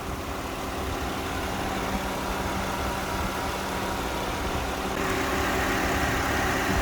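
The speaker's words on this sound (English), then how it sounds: "So this is what the motor sounds like before the engine flush." An old SUV engine idles steadily before an engine flush, a low, continuous rumble and faint mechanical hum, fairly close and unchanging throughout.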